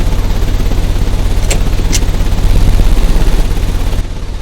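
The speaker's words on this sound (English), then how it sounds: "The engine has started." An engine starting up in the Sherlock Holmes: Crimes and Punishments video game, giving a loud, steady low mechanical drone with two brief sharp clanks midway, then cutting down near the end.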